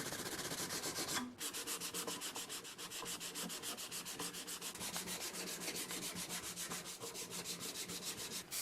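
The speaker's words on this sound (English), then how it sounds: "I switched to finer grit paper to do the final sanding on the blade and the handle." Fine grit sandpaper rubs over the blade and handle of a wooden knife in fast, steady back-and-forth strokes. The scratching is close and continuous, with no voices.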